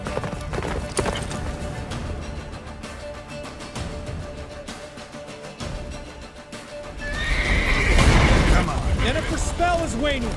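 Roach the horse gallops through a blizzard in The Witcher 3, with steady clip-clop hoofbeats and loud neighs and whinnies near the end over game noise and voices.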